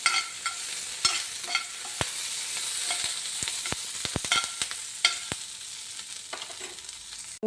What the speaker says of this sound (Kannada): ಒಂದು ಖಾರ ಕಮ್ಮಿ ಇರುವ 1-2-3 ಮೆಣಸಿನಕಾಯಿ ಕೂಡ ಹುರಿಯಿರಿ